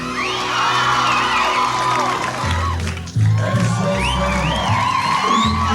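A live studio crowd cheers, whooping and shouting in a loud sustained roar, with some voices and cheers rising and falling over the din.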